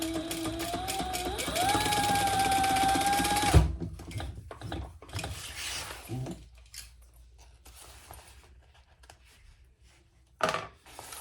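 Sewing machine running steadily for a few seconds as it top stitches the bottom gusset of a fabric sling bag, then stopping, followed by quieter handling noises and a brief clunk near the end.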